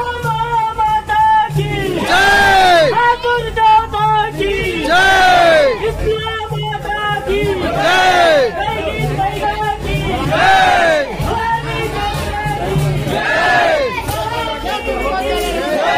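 Large crowd at a village Jawara immersion festival, dense chatter and cheering mixed with loud rhythmic music and chanting, continuous and close throughout.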